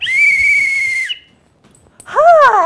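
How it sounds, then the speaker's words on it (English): A dog-recall whistle blows one long steady tone for about a second, and after a short gap a second rising-and-falling warbling whistle follows, loud and close, with no talking. "Whistle."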